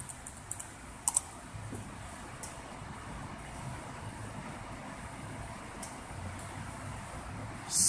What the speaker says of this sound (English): Type in the password supplied.